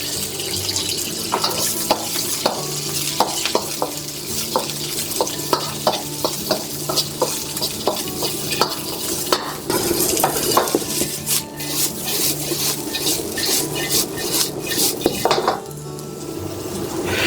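Celery and onions stir-fried in oil in a wok over medium heat, with steady sizzling and repeated scraping and clinking of a utensil against the pan, growing busier partway through.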